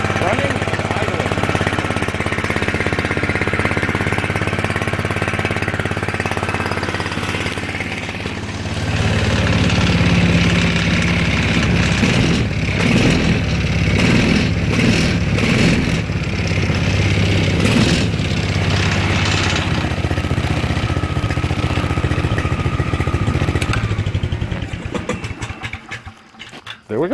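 A Manco Warrior buggy engine, once stuck, runs loudly and close by, then settles into a steady chugging idle with some rattling revs, before stopping near the end.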